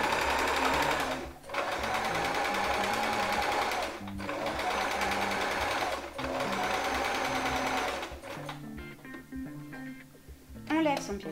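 A sewing machine runs a continuous overcast stitch along a fabric edge, its steady mechanical hum loud and close. It pauses briefly twice, then stops near the end.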